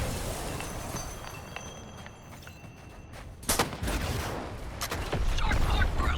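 A gunfire bombardment in a Suicide Squad combat game: scattered sharp shots and impacts, then a heavy loud cluster of blasts past the midpoint and continuing rapid fire to the end, with no talking.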